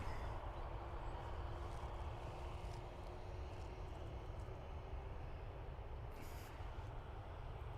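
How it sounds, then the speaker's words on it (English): A Ryanair jet departs Dublin Airport for Leeds Bradford, its engine roar a broad, steady rumble that sounds fairly distant and holds even throughout, with no talking. "Ryanair next, which is heading off to Leeds Bradford."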